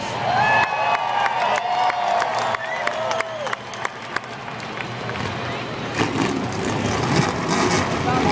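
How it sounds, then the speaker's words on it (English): At a Michigan International Speedway race, race car engines fire up and whine while a large crowd cheers and claps around them, a busy layered roar with an announcer's voice mixed in. "Drivers, start your engines!"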